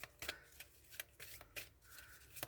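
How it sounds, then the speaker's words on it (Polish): Tarot cards being shuffled by hand, a quiet series of soft riffling bursts coming in an uneven rhythm, close and alone. "Tasuję karty dla bliźniąt"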